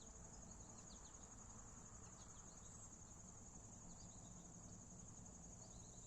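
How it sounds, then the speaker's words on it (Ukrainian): Insects chirp steadily in bushes on a morning outdoors, a continuous high trilling chorus at moderate distance over faint background hum, with no voices. "Десь тут у кущах я чую, вони цвіркотять, вони так цікаво співають."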